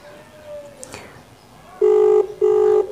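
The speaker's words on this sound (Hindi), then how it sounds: "रिंगटोन जा रही है बट उठा नहीं रहा है।" A phone call rings out unanswered: after quiet line hiss and a faint tone, two loud identical electronic ringtone bursts sound close and clear, separated by a short gap.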